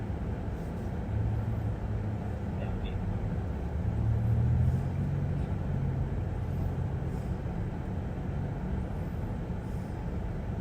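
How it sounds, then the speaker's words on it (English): Busy road traffic rolling past a patrol car on an eastbound street, a steady low broadband rumble of engines and tires that swells briefly midway, continuous and fairly loud throughout. "This traffic's busy here."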